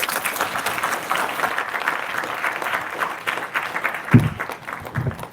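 A crowd applauds steadily, a dense wash of clapping that carries on for several seconds, with a brief thump near the end.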